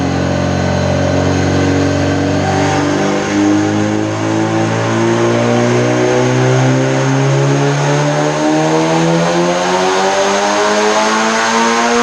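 A turbocharged Honda D16 engine screams through a full dyno pull, its loud sustained roar climbing steadily in pitch for the whole stretch with no voices over it.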